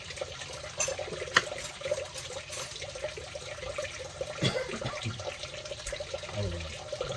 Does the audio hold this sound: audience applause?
no